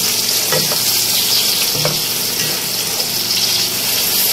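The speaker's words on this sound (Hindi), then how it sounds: "अब इसके अंदर मैं शामिल करूँगी अपनी चिकन, और चिकन डाल के भी हम प्याज के साथ इसको तलेंगे।" About 500 grams of chicken fries with onions in a pan for a khada masala, a loud, dense, continuous sizzle close by, with occasional stirring scrapes rising above it.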